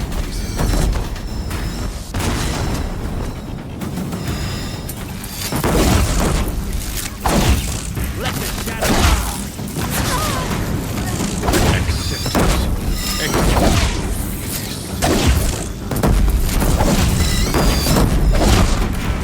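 Deathbringer war machines pound a bridge with heavy fire in Horizon Zero Dawn, producing a dense, continuous barrage of loud booms, crashes and rumbling impacts with no talking.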